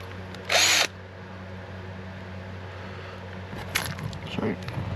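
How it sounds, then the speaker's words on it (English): Power drill boring speaker holes through a carpeted side panel on a 1996 Four Winns Horizon 200 boat: a short loud whir burst, then a second rougher burst near the end, over a low steady hum. "So let's drill."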